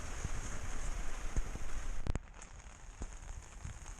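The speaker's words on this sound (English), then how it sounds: "it's raining quite hard" Hard rain drumming steadily on a 1973 VW camper van during a wet camping weekend, a dense continuous patter with a brief louder burst partway through, no voices.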